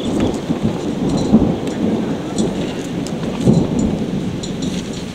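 Deep thunder rumbles roll through a steady rain during a storm in the Scottish Highlands, swelling twice into louder low booms over the continuous patter with no one speaking.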